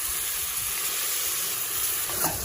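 Half a kilo of chicken frying in a pan with ginger paste gives a steady, dense sizzle that stays loud and even throughout, with no voices.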